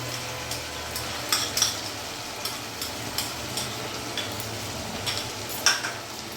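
Ginger, garlic and chili paste with onions frying in a pan for a mushroom masala: a steady soft sizzle with light clicks of a spoon or spatula stirring now and then, no voices.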